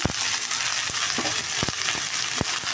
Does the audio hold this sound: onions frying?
yes